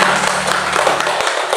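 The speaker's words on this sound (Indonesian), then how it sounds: "Tepuk tangan bagi Tuhan." A church congregation at a women's worship service in Bintaro, Tangerang applauds with dense, steady clapping that fills the room evenly from start to finish.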